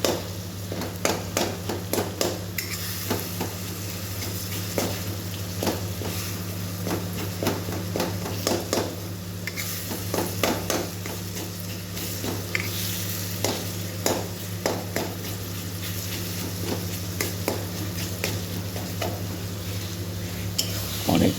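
A spatula presses and scrapes tomatoes frying in a pan, with repeated metallic taps and clinks over a constant sizzle and a low steady hum, no talk.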